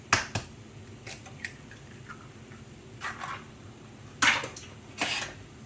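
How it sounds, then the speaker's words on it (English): Eggs cracked for blue crab cakes give a handful of sharp, faint taps and clicks spread irregularly over several seconds, with brief wet bursts between them in a quiet kitchen. "Then you'll break your eggs."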